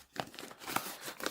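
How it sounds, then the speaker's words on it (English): A plastic bag from a DJI Mic Mini box is opened by hand, giving several close, sharp crinkling bursts with short pauses between them and no voices. "then open the plastic bag"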